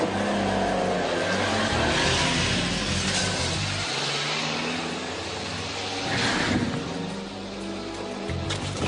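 A car drives along with a steady, droning engine rumble heard from nearby, rising briefly midway before settling back to an even hum.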